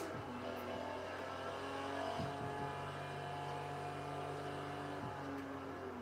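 Car engine in the Forza Horizon 3 racing game holding a steady drone with a brief dip and rise around an upshift, continuous and fairly close, with no talking.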